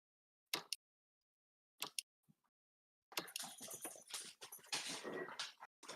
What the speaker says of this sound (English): I can hear dog activity.